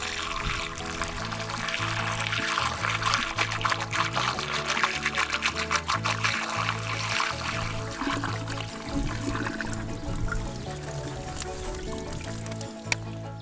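Rusty brown fluid drains out in a steady pouring stream while an off-grid tiny home's water system is flushed, splashing continuously with some trickling, under faint background music.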